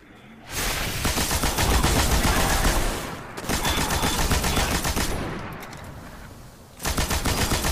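Light machine gun fire in the video game Destiny, a loud sustained burst of rapid shots that pauses briefly around three seconds, resumes, tapers off, then starts again near the end, with no talking.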